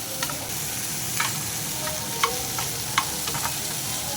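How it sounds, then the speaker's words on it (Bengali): Ingredients for a vegetarian khichuri fry in oil with a constant close sizzle, punctuated by a few sharp clicks of a utensil stirring the pan at irregular intervals; nobody speaks. "একটু ভাজা ভাজা হোক, ওর সঙ্গেই ভাজা হয়ে যাবে"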